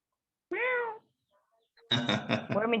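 A child in a school classroom imitates a cat, giving one clear meow, then a brief pause and a quick run of rapid meowing sounds, close and fairly loud.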